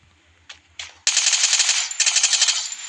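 Rapid automatic gunfire in the Free Fire battle royale video game: a couple of short single shots, then a loud sustained burst of fast rhythmic shots that pauses briefly and resumes, close and dominant with no talk.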